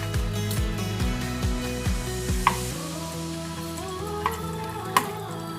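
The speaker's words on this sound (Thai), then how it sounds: "เอาไส้กรอกลงไปทอดนะคะ" Sausages frying in hot oil in a pan for packed lunches, a continuous crackling sizzle with a few sharp clicks and a tonal background underneath, with no one talking.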